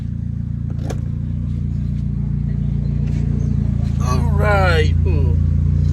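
Mitsubishi Evo 3 engine idling with a steady low rumble, heard from inside the car as someone talks over it, with the hum growing slightly louder toward the end.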